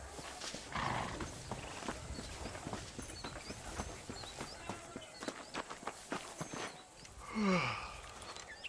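Horse hooves clip-clop steadily in Red Dead Redemption as the horse is ridden, with a brief whinny near the end and ambient game sound beneath.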